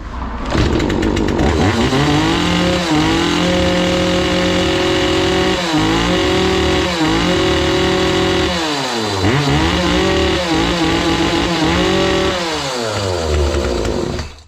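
A repaired Zomax 4010 chainsaw engine runs loud and close, its two-stroke buzz rising and falling through repeated revs and dips over steady idle, with no voices.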